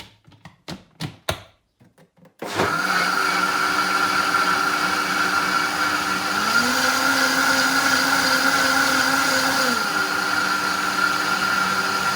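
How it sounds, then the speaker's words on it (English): An electric blender mixing yogurt with starter culture starts after a few clicks and taps, then whirs loud and steady, its motor pitch rising briefly midway before settling back. "I'm going to whisk it again, or blend it, I should say, because I want to make sure that it's evenly distributed"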